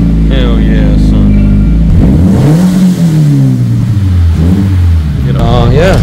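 A Subaru BRZ engine idles after its noisy idler pulley was replaced, giving a loud, close, steady low hum with a brief rev in the middle, with someone talking over it.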